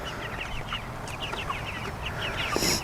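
A flock of young chickens on a homestead clucks and peeps in a busy, overlapping chorus of short calls, fairly close and continuous over a low outdoor background.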